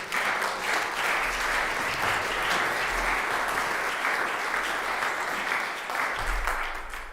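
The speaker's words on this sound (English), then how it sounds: "Please give yourself a nice round of applause." Warm, continuous applause from a concert audience at a song-duo competition opening in a museum, dense clapping that stays level throughout before easing off slightly at the close.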